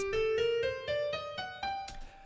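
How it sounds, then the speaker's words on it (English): A rising G harmonic minor scale of single piano notes, about eight evenly spaced steps climbing upward, played alone and moderately loud. "So now we have the G harmonic minor scale."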